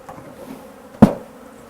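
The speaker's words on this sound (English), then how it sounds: "we can knock these bees down into one side and then into one corner" A honey bee swarm is knocked into a hive box. A soft, continuous buzz of bees is broken by one sharp, loud knock, and the buzzing carries on faintly afterward.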